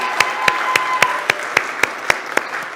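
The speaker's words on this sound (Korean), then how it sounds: "우리 큰 박수로 우리 수고했다고 격려해 주시면 감사하겠습니다" A church congregation at a Sunday service claps in encouragement for the children, about ten evenly spaced, sharp claps in a steady rhythm, close and clear in a reverberant room.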